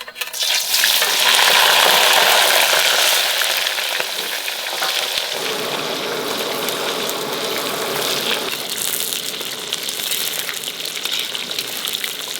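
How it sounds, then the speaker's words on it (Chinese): Ginger and scallion frying in hot oil in a wok for Zigong-style cold-eating beef, a loud, dense sizzle that swells early and settles into a steady crackle, with no talking. "再放这个姜葱下去炸一下，把姜葱的香味炸出来了之后，再放牛肉进去爆"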